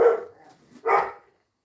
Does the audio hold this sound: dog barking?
yes